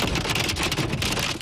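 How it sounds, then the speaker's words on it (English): Torrential rain pours down during a storm, a dense, loud, continuous hiss of heavy drops striking surfaces, with no voices. "April showers came early for millions of Americans, with torrential rains, gusty winds, and large hail battering parts of the country"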